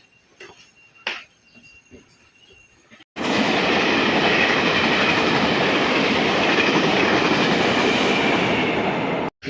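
A passenger train in Taiwan, heard from inside the carriage: after quiet clicks, a loud steady roar of running wheels and rushing air fills the cabin and continues without letup.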